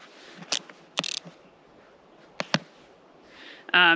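A Boa lacing dial on a Decathlon Endzone 2022 women's snowboard boot releases with a few short bursts of quick ratcheting clicks, close and crisp, separated by near silence.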